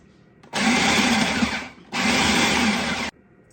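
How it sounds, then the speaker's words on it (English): Blender pulsing pesto ingredients in two loud bursts, each lasting over a second, with a short pause between them and quiet before and after. "we're gonna start with a pulse and kind of see what it looks like after a couple pulses"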